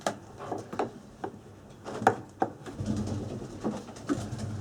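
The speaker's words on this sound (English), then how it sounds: "Lots of pigeons up here" Pigeons cooing and shuffling at the top of a church tower, soft low coos with faint fluttering and pattering spread over a few seconds, some distance off, no voices.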